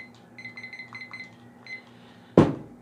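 A timer gives a series of short, quick electronic beeps in irregular bursts as it is set, close and fairly quiet, ending with a single louder clunk.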